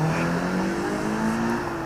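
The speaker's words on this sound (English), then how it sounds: "Nice burnout." A Subaru's engine revs hard and steadily during a burnout, its droning note climbing slightly in pitch. It runs loud and continuous throughout, with no voices.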